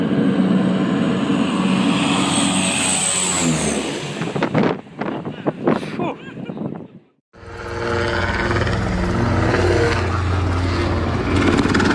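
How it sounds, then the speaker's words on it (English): Firefighting plane skimming a water surface to scoop a tankful, a loud continuous engine roar and rushing noise, broken by choppy bursts before a brief dropout, then a dense roaring wash resumes. "The plane scoops water in one go from the surface to fill its tank before heading out"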